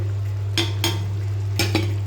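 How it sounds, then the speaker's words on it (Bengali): Four quick scraping clatters of drumstick stalks being turned in a pan, in two pairs, over a constant low hum. "ডাটাগুলোকে ওপর নিচ করে দিলাম"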